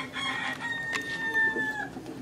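A rooster crows near a village home on Palawan island, one drawn-out call rising then trailing off over roughly two seconds, fairly close and clear against faint background noise.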